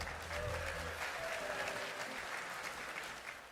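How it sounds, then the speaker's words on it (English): Applause from people inside a Roblox event pavilion, a fairly faint wash of clapping from a crowd heard at a distance, steady across the moment with a low hum and some indistinct voices beneath it. "the people inside the pavilion are obviously clapping and applauding Roblox's efforts"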